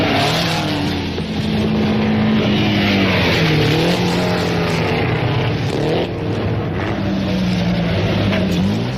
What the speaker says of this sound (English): Even Bablo's Delage number 9 cannot match the Peugeots.